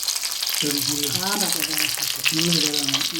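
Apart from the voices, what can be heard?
fish frying in a pan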